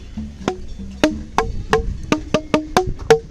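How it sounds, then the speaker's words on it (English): Rock-made musical instrument at Swaram Sound Garden, struck in a series of about nine clear, ringing tonal hits with short decays, fairly close and alone. "So they have made it out of a rock, I believe. So this has a different sound."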